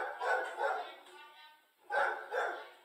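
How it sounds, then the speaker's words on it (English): A dog barks repeatedly in muffled bursts over a phone line, drowning out the call, with a faint pause between two clusters of barks. "We can't hear you over the dog."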